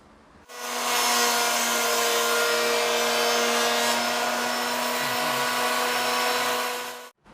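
A woodworking planer whirs into a loud, steady high-pitched drone, runs continuously for several seconds, then cuts off abruptly.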